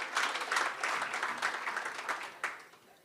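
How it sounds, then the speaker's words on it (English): A short burst of audience applause at a swimming club's awards evening, steady crowd clapping of moderate loudness with a few sharper claps near the end. "let's give them a round of applause, please."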